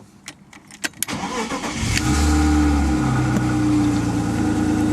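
A BMW E36 engine cranks with a few sharp clicks, catches about two seconds in with a loud surge, then settles into a steady, close idle hum.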